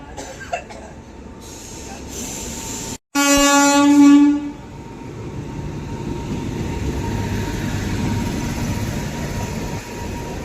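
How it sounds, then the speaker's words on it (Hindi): An Intercity Express train slowly pulls out of Birla Nagar station, a loud horn blast sounding after a brief gap, then the steady rumble of wagons rolling on the rails, close and continuous. "बहुत ही धीमी गति से निकल रही है बिरला नगर से।"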